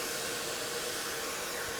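A diamond hone run with oil through the valve guides of a 283 Chevy Power Pack cylinder head makes a loud, steady, unbroken whir that fills the short stretch on its own, with no speech.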